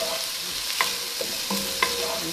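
Beef short rib sizzles as it is sautéed in a pan, with a steady frying hiss and a few clear scrapes and clinks of stirring, close and without speech.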